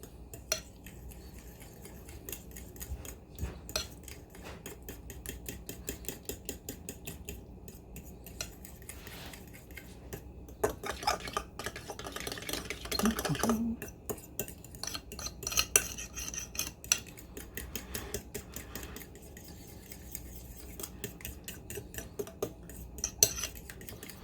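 A utensil mixes sour cream into huevos rancheros ingredients in a bowl, with quick, repeated clinks and scrapes of metal against the dish that continue steadily and close up, without any voices.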